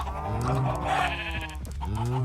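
Sheep bleat in overlapping, wavering cries over a steady background hum, loud and close, with a second call rising near the end; sheep in a Minecraft 1.6 survival game farm.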